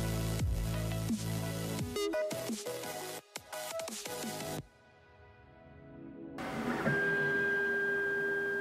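A Creality K1 3D printer runs with whirring stepper motors and a humming fan, starting as clear, busy mechanical movement, dropping to a quiet lull, then settling into a steady tonal hum.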